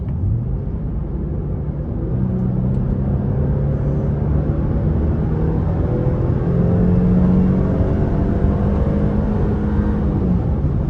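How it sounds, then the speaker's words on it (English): A 2015 Infiniti QX70 SUV with a V6 and 7-speed gearbox under full throttle from inside the cabin: a steady, loud engine drone whose pitch climbs through the gears, with a brief dip at a shift, heard alone. "Gonna come around this corner and floor it."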